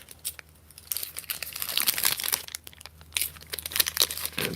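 Red fruit by the foot snack wrapper being crinkled and torn close up, a dense run of crackling, rustling bursts that rise and fall without pause.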